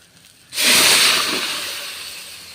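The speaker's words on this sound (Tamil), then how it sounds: "இது குக்கரில் விசில் விட்டதுங்க அஞ்சு விசில்" After a moment of quiet, steam suddenly bursts out of a pressure cooker whistle in a loud, close hiss that slowly fades.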